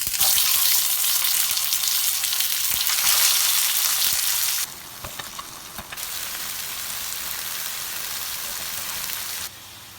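Beef smash burger patty frying in a pan, a loud steady sizzle that drops in level partway through then continues with faint clicks and taps, no talking.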